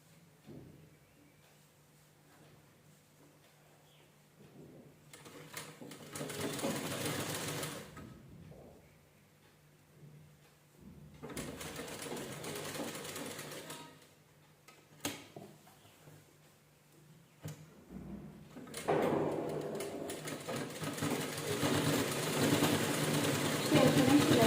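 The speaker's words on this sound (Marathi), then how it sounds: "शिलाई व्यवस्थित करून घ्यायची." A sewing machine stitches a blouse in several bursts of steady mechanical whirring, separated by quieter pauses, with the last run the loudest and longest; a voice talks in between.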